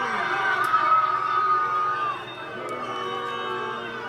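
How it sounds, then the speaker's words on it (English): Large crowd booing and jeering from a played recording, a sustained loud roar of many voices that eases slightly halfway through, heard from a distance. "People were booing because he said he wasn't sure."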